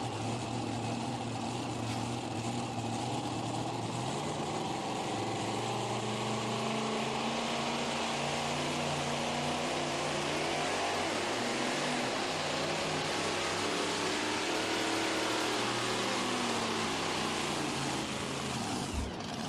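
Pulling truck at the Vanderburgh County Fair truck and tractor pull in Evansville, its engine not making full power: a continuous loud engine drone with a slowly wavering pitch, sustained throughout.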